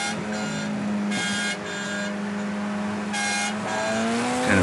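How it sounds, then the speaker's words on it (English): An old-school car horn, likely on a Honda Integra Turbo or a Ferrari, sounds in repeated bursts over a steady engine drone, near and loud, with no talk. "Kind of an old school horn."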